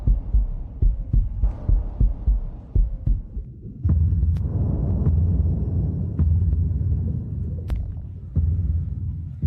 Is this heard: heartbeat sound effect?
yes